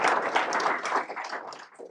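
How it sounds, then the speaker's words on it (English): Audience applause at a JavaScript meetup talk, a brief burst of many hands clapping in a room, dense at first and thinning as it fades out. "Let's all give them a big round of applause."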